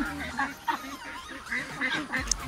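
Ducks on a meat duck farm call in a flock, a run of nasal honking quacks overlapping at close to mid range, with some human voice mixed in.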